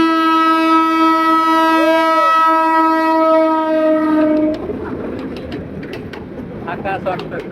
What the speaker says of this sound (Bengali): আর এখন ট্রেন আসতেছে, দেখি কোন ট্রেন।